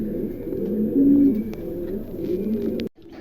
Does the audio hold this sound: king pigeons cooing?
yes